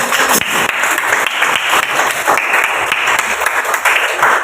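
Steady applause from a group fills the room at a dense, even level for several seconds with no speech.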